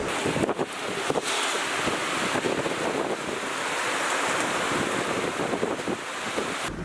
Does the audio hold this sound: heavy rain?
yes